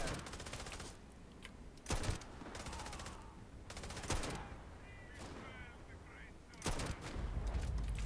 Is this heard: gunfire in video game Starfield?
yes